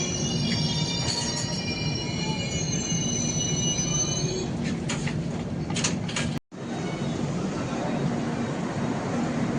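Inside a moving Indian passenger train between Kolkata and Benaras, a steady rumble and rattle runs throughout, with high wheel squeals early on, some clunks, and a brief cut near the end.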